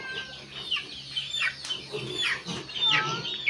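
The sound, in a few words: chickens clucking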